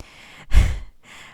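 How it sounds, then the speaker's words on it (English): A person snoring close by gives one loud, rough breath sound in the middle, framed by quieter breathing before and after. "somebody is snoring right next to me"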